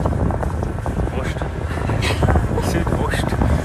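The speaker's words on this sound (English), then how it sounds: "Ja, der Wind kommt aus Süd" Wind buffets the microphone aboard a sailing boat on a passage toward Sweden in a light southerly breeze, a steady rumbling rush with low gusty thumps and faint splashing throughout, while people talk.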